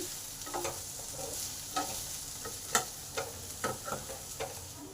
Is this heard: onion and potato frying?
yes